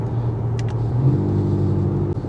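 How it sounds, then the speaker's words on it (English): An Audi SQ5 diesel at full throttle gives a strong, steady engine drone with a faint rise in pitch, heard from inside the car, loud and continuous with no talking. "You wouldn't expect a fairly normal diesel to accelerate this way this thing does."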